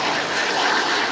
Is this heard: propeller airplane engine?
yes